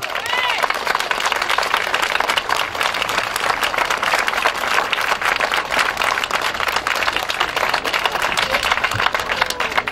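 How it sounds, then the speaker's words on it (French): Applause from a crowd gathered at an outdoor protest against hunting with hounds, a dense, steady clatter of many hands lasting throughout at a loud, even level, with voices mixed in. "On peut les applaudir bien fort."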